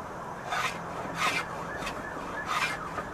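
A bevel is worked onto a wooden boat plank with close, rhythmic rasping strokes, about four abrasive scrapes repeating at an even pace over a quiet background.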